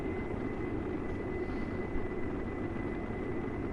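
Steady airplane engine drone from a plane flying high in a video game, a constant broad rumble with a thin sustained tone, even and continuous throughout with no talking.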